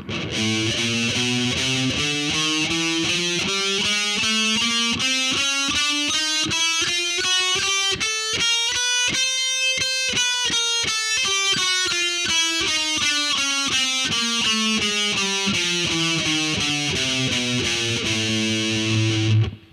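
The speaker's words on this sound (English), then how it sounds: "This is an easy to remember left hand exercise that'll get your left hand stronger and faster." A distorted electric guitar plays a fast left-hand fretting exercise using four fingers, with rapid even notes climbing steadily in pitch and then descending again, loud and continuous with no talking.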